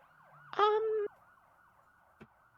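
A faint, wavering siren tone cycles continuously in the video game OMORI, broken by a brief louder harmonic blare and, later, a short sharp blip.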